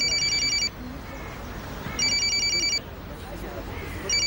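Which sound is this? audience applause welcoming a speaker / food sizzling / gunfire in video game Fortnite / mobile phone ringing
mobile phone ringing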